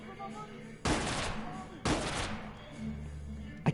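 Gunfire in the video game Watch Dogs, two loud, sharp blasts about a second apart, each trailing into a noisy decay, with a quieter clack at the end.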